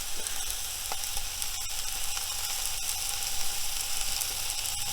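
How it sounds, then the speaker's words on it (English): Tofu crumbled by hand into a hot pan for a vegan scramble, with a steady, close sizzle of frying running throughout and a few faint stirring ticks, no voices. "I'm going to start crumbling the tofu in here."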